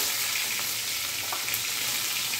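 Tomato sautés in oil in a pan for a Bengali potol and pumpkin curry with fritters, a dense, constant close-up frying hiss with faint stirring ticks.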